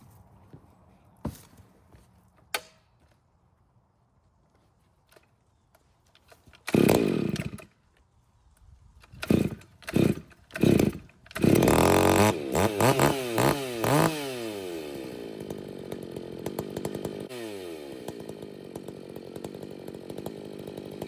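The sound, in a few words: Stihl 046 chainsaw running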